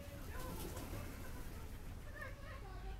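Pigeons and other wild birds coo softly at a feeding spot outdoors, with faint calls rising and falling over low background rumble and a person talking nearby.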